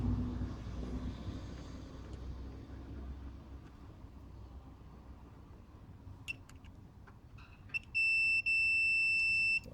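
Multimeter continuity beep while probing an under-hood fuse for the cruise control on an Acura RSX: after a quiet stretch, a steady high electronic tone sounds near the end, loud and unbroken for about two seconds.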